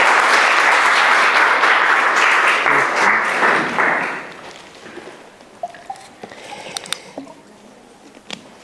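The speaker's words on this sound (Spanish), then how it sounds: "le damos un fuerte aplauso de bienvenida" A crowd gives a loud, dense round of welcoming applause at a church congregation gathering, lasting about four seconds before fading to a few scattered claps and small noises.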